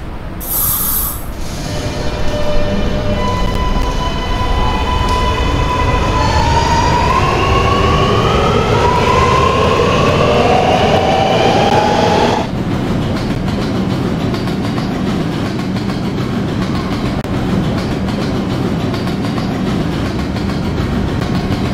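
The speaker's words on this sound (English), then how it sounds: "This is a Potato Brick bound R train." An R211 subway train in the Roblox video game runs along the track. Its motors whine and climb through rising tones for about twelve seconds, then settle into a steady, loud rolling rumble.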